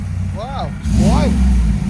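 A cammed GMC Sierra 6.2L V8 with headers rumbles close by, then swells into a loud rev partway through, with voices speaking over the engine.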